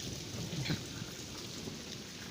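Steady rain falling outdoors, a dense continuous hiss of drops on surfaces, fairly close and even, with a low rumble underneath.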